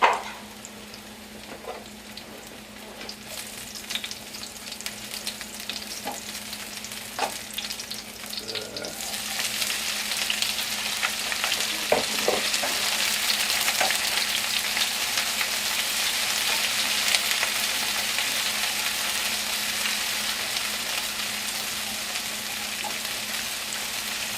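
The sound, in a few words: sauteing vegetables and mushrooms in a pan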